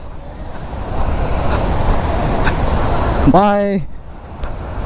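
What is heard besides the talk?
fast-flowing water during a group ride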